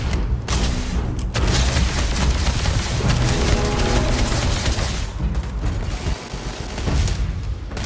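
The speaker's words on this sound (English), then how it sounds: "Lots of explosions and everything else going on" Dense, loud battle noise from the video game Starfield rumbles continuously, with booming blasts and rapid gunfire bursts layered over a constant low roar.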